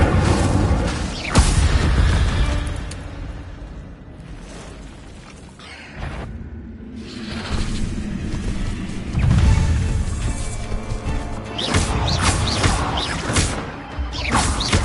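Incendio fire spell cast in the video game Hogwarts Legacy, with repeated loud whooshing bursts, crashes and booming impacts spread over about fifteen seconds, a quieter stretch in the middle and heavy hits near the end.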